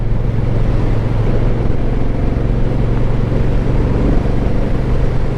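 A Honda Rebel motorcycle with a DCT gearbox runs with a loud, steady engine drone close by, holding an even low rumble throughout with no talk.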